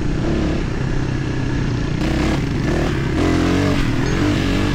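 A motorcycle with a flat tire runs steadily nearby on a rough trail in Isabela, Philippines, a loud continuous rumble that rises slightly toward the end, with faint clattering.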